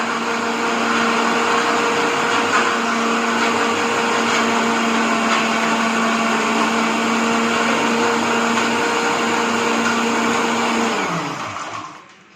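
A blender jar whirs continuously as it purees watermelon for juice, a loud, close, steady high-pitched motor drone that runs for several seconds before spinning down and stopping at the end.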